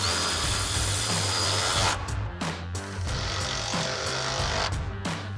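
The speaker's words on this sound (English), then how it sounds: "we're going to grab our 16mm swivel socket on our ratchet." A ratchet with a 16mm swivel socket tightens the main bracket bolts on a 2021-2026 Ford Bronco drop step, heard as steady, close mechanical clicking and whirring with brief pauses between bursts.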